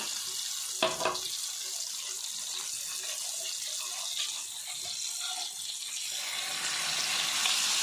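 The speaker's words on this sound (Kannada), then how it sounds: "ಪೂರ ಎಣ್ಣೆಗೆ ಪಾಡ್ದು ಚೂರು ನೀರು ಪಾಡ್ಗ" Water poured into oily masala in a frying pan while cooking mackerel masala fry gives a continuous hissing, splashing sizzle that swells slightly toward the end, with no talking.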